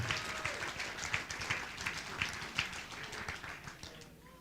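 Crowd applause after a boxing bout at a mall venue: a modest audience claps in a rolling, somewhat distant round with distinct individual claps, gradually thinning toward the end.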